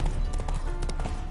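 Horse hooves clip-clop in a video game, a quick run of close, steady hoofbeats over a short stretch, with a faint voice in the background.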